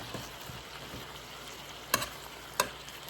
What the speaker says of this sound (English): some ketchup for color. And we're gonna stir it.